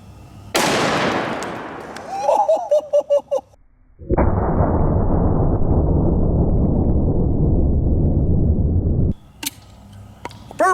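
A shotgun firing a 3.5-inch turkey load at a Furby toy outdoors, a sharp loud blast followed by a long rumbling roar that fades, with clicks of the gun being handled before and after.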